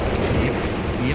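Storm thunder in Red Dead Redemption 2 rolls as a loud, broad rumble under a speaking voice, sustained through the whole short stretch.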